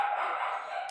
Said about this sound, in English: So you can hear the two dogs in the background as that continues onward.